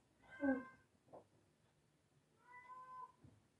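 A cat meows twice, one drawn-out call followed after a pause by a second longer, softer meow, heard close against a quiet rural background.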